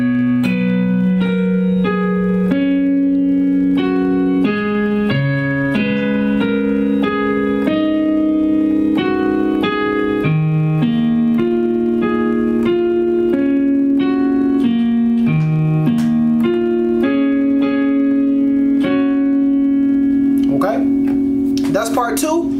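A piano plays part 2 of a song slowly, with sustained chords and a melody moving over a steady low bass line, clear and close. A voice speaks over it now and then.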